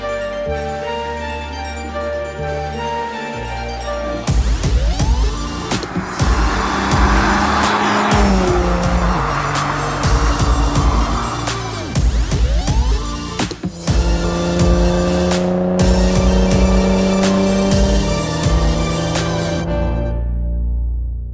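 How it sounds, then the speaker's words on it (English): A modified 2012 Nissan GT-R R35 accelerating hard on a runway, with a low idle giving way to a loud, rising engine roar through repeated gear shifts and whistling turbo sounds, close and sustained. "the car I'm driving is a Nissan 2012 GT-R R35"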